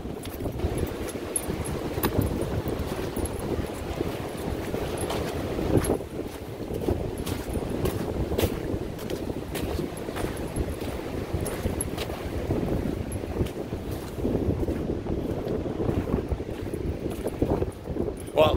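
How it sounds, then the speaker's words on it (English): Strong wind roars and rumbles against the microphone throughout, steady and gusty, with occasional faint voices underneath, at Cherry Beach Dog Park in Toronto on wet, muddy ground. "it is super windy"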